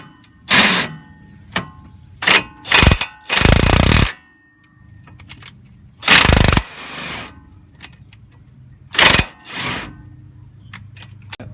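A ratchet works a rusted lower control arm bolt on an Infiniti G35, giving loud, uneven bursts of clicking and grinding separated by pauses as the bolt is loosened and tightened back down.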